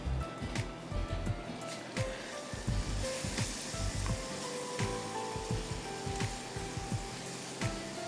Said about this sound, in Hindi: चावल जो हैं उसको स्टर फ्राई करना है हमने मसालों के साथ